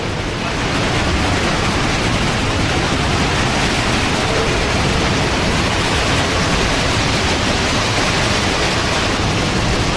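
Niagara Falls water roars as a loud, steady broadband rush, echoing through damp rock tunnels beside the falls for the whole stretch.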